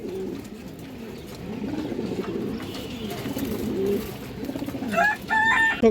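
An old male breeder pigeon coos in a low, rolling, repeated pattern close by, with faint background chatter and a sharper bird call near the end.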